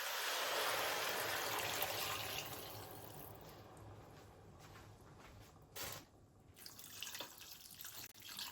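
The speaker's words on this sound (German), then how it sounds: "dann kommen auch schon die Tomaten mit hinein und auch das Wasser" Water pours steadily into a soup pot of Moroccan harira, a loud rushing stream at first that thins and fades, followed by a few trickles and splashes near the end.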